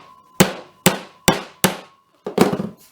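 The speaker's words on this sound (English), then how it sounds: "I'm going to hit it with a hammer." Hammer striking a part during assembly of an Ashford table loom, four sharp evenly spaced blows and then a fifth, heavier strike with a brief rattle.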